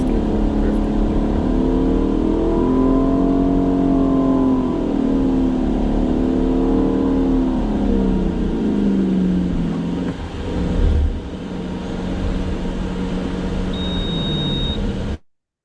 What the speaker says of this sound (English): the vehicle is tracking a desired circular trajectory, actually turning to the right with its wheel turned to the left, and just kind of tracking a nice stable drift